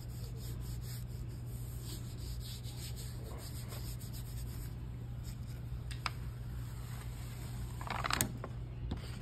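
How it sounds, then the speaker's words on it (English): Paper rubbed by hand onto a painted surface to lift a monoprint, a quiet steady dry rubbing and brushing texture with a faint electrical hum beneath and a brief louder scuff near the end. "make sure you just kind of rub it in"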